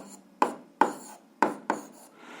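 A physics formula is written out by hand in four quick, distinct scratchy strokes, each a short close scrape separated by brief quiet.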